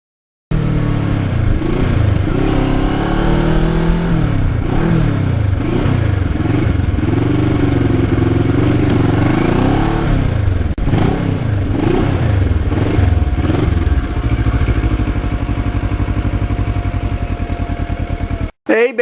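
A Kawasaki Ninja motorcycle ridden on an open road, its engine droning loud and continuous for nearly twenty seconds with repeated rises and dips in revs, wind rushing over it, and a voice talking throughout.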